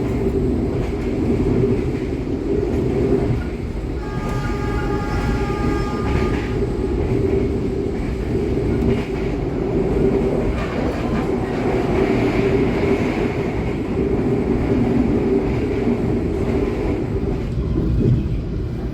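The Jayakarta passenger train runs toward Klaten station, heard as a loud, continuous rumble with rhythmic wheel clatter from inside the car. A brief tonal whine rises midway through the run.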